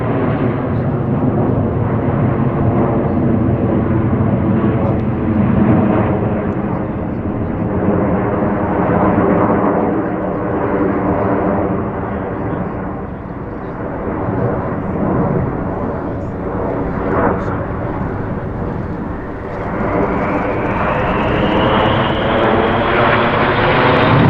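Red Arrows jets at the 2024 Sywell Airshow, a continuous loud engine roar from aircraft passing overhead at high speed, sustained for over twenty seconds with a rising whine near the end.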